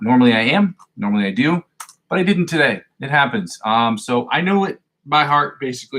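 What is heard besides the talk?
No everyday noise stands out behind the speech.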